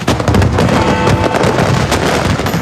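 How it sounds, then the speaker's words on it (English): New Year's fireworks burst continuously over a large crowd, a dense, loud barrage of booms and crackling pops overlapping with no pauses. "New Year's celebrations begin in the UK and around the world with large crowds and spectacular firework displays."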